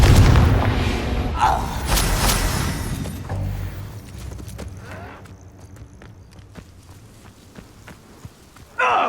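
A Confringo fire-blast spell explodes in the Hogwarts Legacy video game: one loud, deep booming burst opens the clip, then fades into softer battle rumble and scattered thuds, ending with a sharp hit at the very end.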